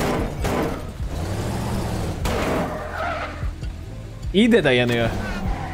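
A monster truck in Minecraft drives and skids, with a steady engine drone and a sharp tire squeal toward the end, while someone talks over it.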